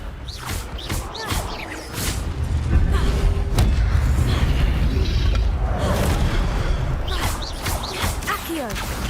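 An Accio summoning spell is cast in Hogwarts Legacy amid combat, with booming magical whooshes and crashes over a dense, loud game soundscape.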